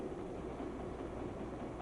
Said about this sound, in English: A few minutes from now, this train comes to a tunnel.